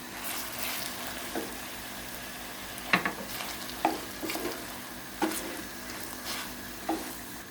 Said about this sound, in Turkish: 1 yemek kaşığı domates salçası alıp kavurmaya devam ediyoruz